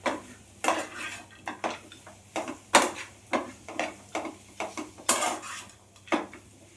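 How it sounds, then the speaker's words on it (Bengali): A spoon stirs a beetroot and carrot vegetable filling with sugar and chopped coriander in a pan, giving repeated close metallic scrapes and clinks in an uneven rhythm, no talking. "এবার উপর থেকে আমি 1/2 চামচের মতো চিনি আর ধনে পাতা কুচি দিয়ে আর একবার আমি ভালো করে নাড়াচাড়া করে নেব"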